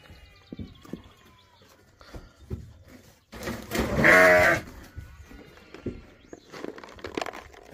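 A thin first-time ewe with her lambs bleats in one loud, drawn-out cry, surrounded by quieter rustling and small knocks in a farm pen.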